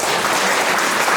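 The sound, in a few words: applause for the chairman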